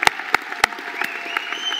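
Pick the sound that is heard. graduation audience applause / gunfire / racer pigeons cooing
graduation audience applause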